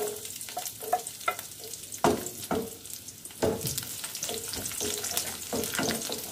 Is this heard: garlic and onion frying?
yes